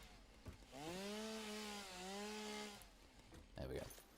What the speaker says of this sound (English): Gonna have to clear out some of that shrubbery with not the epic thunder staff, but some chainsaw instead.